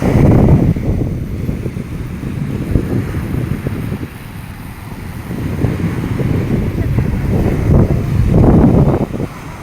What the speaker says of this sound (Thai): มานี่มาดูคลื่นเลยคลื่นแรงมากเลยเนาะ